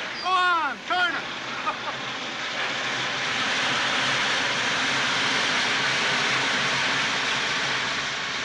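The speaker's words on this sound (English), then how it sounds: "The blow-off valve, Tag." A steam locomotive's blow-off valve vents in a loud, steady hiss of escaping steam that fills the clip after brief voices at the start.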